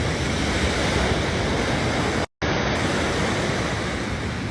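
Sea waves at the shore in Salalah, Oman, a loud continuous wash of surf close by, mixed with wind rumble on the microphone, and a brief dropout near the middle.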